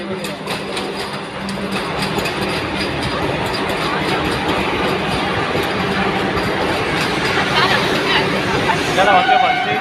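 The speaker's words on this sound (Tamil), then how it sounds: "பாரு ட்ரெயின்." A train rumbles past with rhythmic rail clatter, steady and fairly loud, while people chatter in the background.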